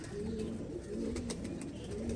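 Soft, low cooing of a Surkha pigeon repeats in a steady rolling rhythm, close by, over a faint background hiss.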